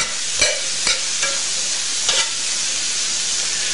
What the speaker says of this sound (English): Once I add my garlic, you want to stay with your pan because it goes from being cooked to burnt very quickly, very easily.